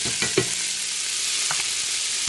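Chopped onions sizzling as they go into rendered bacon fat in a pan for clam chowder, a loud steady hiss with a couple of brief stirring clatters near the start.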